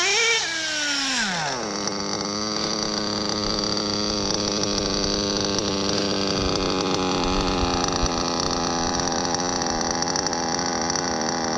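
A modded Novarossi nitro engine in an 8IGHT X Elite RC buggy idles close by after a quick throttle drop, settling into a steady, buzzing drone with a slightly uneven, low idle.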